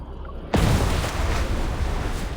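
A massive explosion on a mothership in the game Love and Deepspace hits suddenly after a quiet moment. It is a loud, close boom that rolls on as a sustained rumble.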